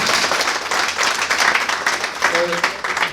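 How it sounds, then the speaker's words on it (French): An audience at a leadership and entrepreneurship school event applauds the speakers, a continuous wash of clapping with voices mixed in and a brief tonal sound near the end. "Est-ce qu'on peut applaudir les orateurs?"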